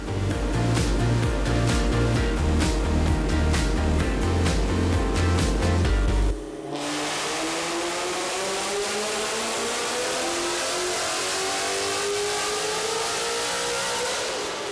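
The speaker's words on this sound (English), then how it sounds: "move this thing over to the dyno, but something tells me Corsa, the Cook's long tubes, it's about to get loud" A supercharged 2017 Mustang GT with a Corsa exhaust and Kooks long-tube headers runs on a dyno. A loud, pulsing idle gives way to a long, rising wide-open-throttle roar that climbs steadily through the revs.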